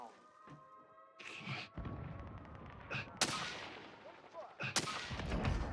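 Gunfire in a Call of Duty battle royale match: several sharp, loud shots and bursts ring out amid ongoing combat noise, with a voice shouting partway through.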